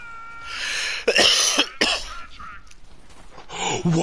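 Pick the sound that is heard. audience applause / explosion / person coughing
person coughing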